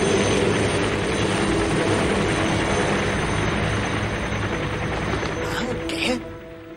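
Cartoon helicopters pass overhead with a dense, continuous rotor and engine roar that holds loud for about six seconds, then thins out as they move away.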